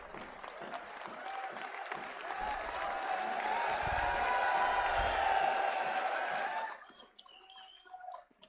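Sustained audience applause at a political rally stage, a dense roar of clapping lasting about six and a half seconds before cutting off abruptly, leaving a few scattered claps.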